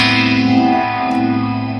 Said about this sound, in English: an octave shimmer, some delays, some reverb.